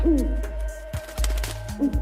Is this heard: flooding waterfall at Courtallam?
no